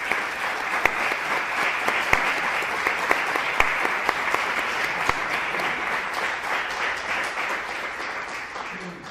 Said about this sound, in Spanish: me gustaría que le diéramos un gran aplauso a ellos